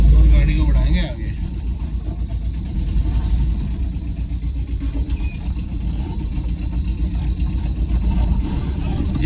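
A Tata Ace mini truck's engine runs steadily and loud throughout as it pulls away in first gear, a low continuous rumble close by with a brief dip early on.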